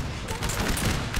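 Guard grenadiers in Napoleon Total War 3 fire their muskets in a dense, crackling volley of overlapping shots that rolls on steadily as distant battle noise.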